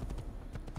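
Horse hooves thud in the video game Assassin's Creed, a short burst of a few heavy, close clip-clop steps.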